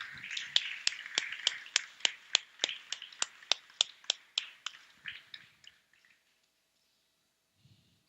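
Congregation at a church service clapping in a steady, even rhythm, about two sharp claps per second, crisp and fairly quiet, slowing and fading out after roughly six seconds into near silence.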